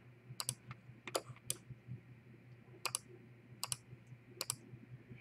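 Computer mouse clicking while setting toolpaths in CNC software: a series of crisp, isolated clicks, some in quick pairs, spaced irregularly over a low steady hum.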